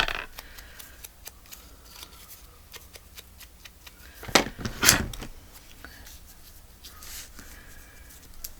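Scissors snip the corners off sheets of paper, with a couple of crisp, close cuts standing out against quiet paper handling and faint room noise.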